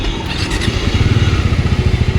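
A Bajaj Pulsar NS 400 Z motorcycle engine on a test ride, a loud, close, steady throbbing drone with a pulsing low rumble.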